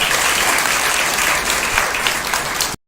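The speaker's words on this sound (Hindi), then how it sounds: "तो ताली थोड़ी धीमी है ना।" Sustained audience applause welcoming a spiritual speaker at a Hindi gathering, dense steady clapping filling the hall at even loudness for nearly three seconds before cutting off abruptly.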